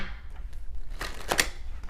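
Tarot cards being shuffled by hand, a soft continuous riffling and rustling with a brighter flurry of card slaps near the end, close and fairly quiet.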